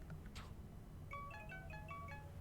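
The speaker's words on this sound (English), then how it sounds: "Why do you have a creepy ringtone?" An eerie, creepy phone ringtone from the To the Moon video game plays as a clean melodic run of bright, bell-like tones in quick succession, fairly quiet and alone after a brief soft sound.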